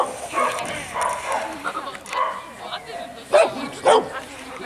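A young dog up for adoption barks and yips several times in short bursts, close by and mixed with people talking.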